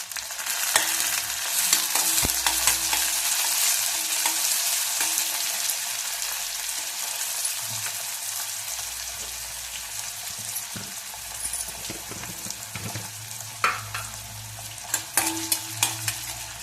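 Chopped tomato goes into onions already frying for a quick snack made from leftover bhakri, with a steady loud sizzle throughout, scattered stirring scrapes, and a few sharper crackles near the end.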